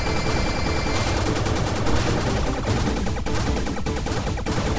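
Rapid, sustained machine gun fire from Blaster Master Zero, a dense run of retro-style gunshots rattling continuously, loud and alone.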